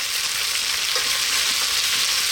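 Cauliflower and potato pieces fry in a pan while a utensil stirs them, making a dense, even sizzle close up with soft scraping and no voices.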